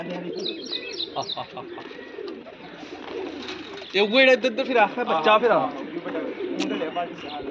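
Pigeons cooing and fluttering close by, with soft chirps throughout; a person talks over the birds at times.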